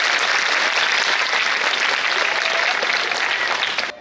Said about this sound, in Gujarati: ખૂબ સરસ પ્રિન્સ માટે હજુ ફરીવાર જોરદાર તાળીઓ થઈ જાય.